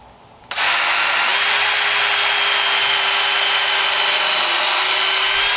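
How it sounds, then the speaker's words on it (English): A power drill bores a small pilot hole for an eye hook in wood for a DIY witch cauldron tripod, whining at a steady, loud pitch from a brief start to a continuous run with no pause. "So we're just gonna drill a small little pilot hole."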